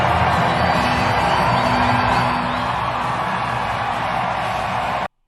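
A large rally crowd cheers and whoops for Elon Musk, a dense, continuous roar of many voices at full volume that eases slightly before cutting off abruptly.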